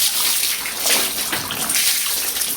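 Water sloshes and splashes continuously while laundry is rinsed by hand, a close, steady wet churning with no talk.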